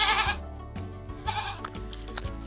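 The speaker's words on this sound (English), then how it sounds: "Pointy, curly horns and a loud bleating sound." A cartoon farm goat with pointy, curly horns lets out loud, quavering bleats, one at the start and another near the middle, over bright music.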